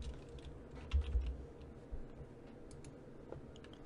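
Keystrokes on a computer keyboard while renaming a group title, a quiet run of soft clicks and taps with a few louder presses, close by and with no voices.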